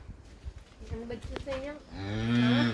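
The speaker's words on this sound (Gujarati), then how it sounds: "આ છે female calf, ABS Everest બુલની female calf છે ફ્રેન્ડ જોઈ શકો છો" A newborn female Holstein-type calf sired by an ABS Everest bull moos on a farm after calving, a rising nasal call building to a loud, close, sustained bleat near the end, with faint background noise.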